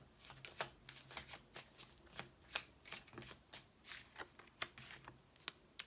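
Tarot cards are drawn and laid over one another on a table, a series of soft, crisp paper slaps and slides at an irregular pace, quiet and close.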